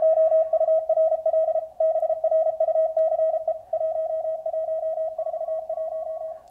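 Morse code signals received on a QRP Labs QCX transceiver kit, a steady sidetone-like beep keying in rapid dits and dahs with short pauses, clear and continuous with no talking.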